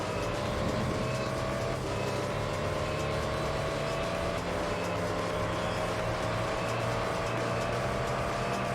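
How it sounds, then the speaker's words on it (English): Race car engine in Gran Turismo 3 held against the rev limiter, a loud steady high-pitched drone with slight bouncing pulses that runs nonstop for the whole stretch. "So, here we are, rev limiter again."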